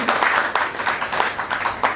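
An audience applauds at an anniversary celebration of a community centre, a steady dense patter of many hands clapping with rhythmic swells, fairly close and loud throughout.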